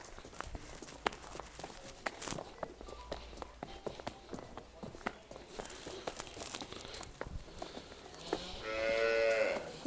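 HF-breed cattle moo over and over throughout, with footsteps and light rustling close by at a farm; a louder, drawn-out moo rises at the end.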